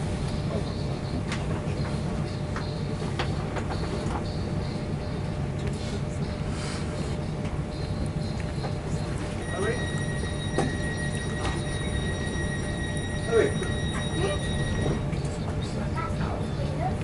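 GWR Class 43 Castle Class HST running between Penzance and Plymouth, heard from onboard: a steady rumble of rolling wheels and carriage noise throughout, with faint squeals and clicks, while passengers talk quietly in the background.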